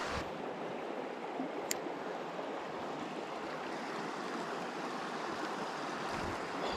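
Small river running through the Idaho backcountry, a steady broadband rush of flowing water heard alone and fairly close, with a brief sharp click near the start.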